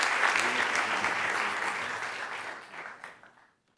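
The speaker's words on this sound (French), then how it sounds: "Et on peut, bien entendu, l'applaudir." Audience applause at an award ceremony for a thesis prize at Sciences Po Paris, steady dense clapping from a crowd in a hall that fades out toward the end.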